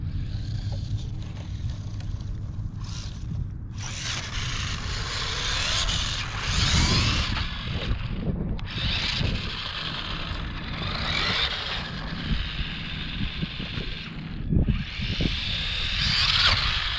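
A Traxxas 1/16 Slash RC truck on stock battery pushes through tall grass, its electric motor whining in uneven surges as stalks brush and scrape against it, close and steady over low background rumble.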